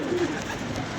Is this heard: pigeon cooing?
yes